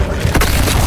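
A short, loud spell effect from the video game Hogwarts Legacy bursts out as a dense whoosh with a low boom, filling under a second.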